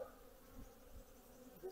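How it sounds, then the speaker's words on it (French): Agitated bees buzz around an opened hive while nuclei are being merged for wintering, a faint, steady drone with small swells that stays low and distant, with no voices. "Les abeilles sont assez énervées."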